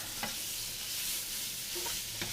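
Sausage meat frying in a pan, broken into small nickel-sized chunks, gives a soft, steady sizzle broken by a few scraping stirs of a utensil.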